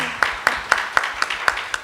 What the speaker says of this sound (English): yeah, you may clap for that, I'll feel good.